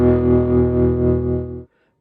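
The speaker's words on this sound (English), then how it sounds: "This is my first solo patch. This is slightly overdriven pushed sound." Electric guitar on a slightly overdriven, pushed solo tone through a PRS, Mesa Boogie and Fender rig, one sustained chord-like note ringing steadily then stopping abruptly, nearly dry with a touch of reverb.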